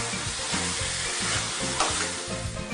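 Coconut fudge mixture for nariyal chakki is stirred and scraped around a hot pan, giving a continuous sizzle broken by rhythmic low scraping strokes about every half second, close and fairly loud.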